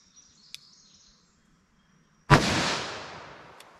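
.357 Magnum revolver fired once in an outdoor ballistic test: a single sharp, loud crack followed by a long decaying echo, with faint birdsong before the shot and no talking.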